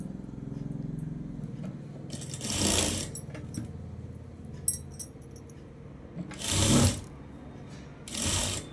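Close sewing machine stitching fabric for a princess-cut blouse with a shaped belt, with a soft mechanical whir and ticking between three louder bursts of rapid stitching, plus small clicks and handling noises.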